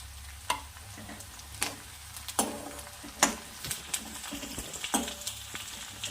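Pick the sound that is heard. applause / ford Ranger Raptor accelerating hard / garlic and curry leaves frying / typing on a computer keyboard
garlic and curry leaves frying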